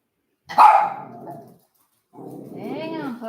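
A dog gives one sharp bark, then after a pause a longer, whining, yowling bark, loud and close in a quiet room.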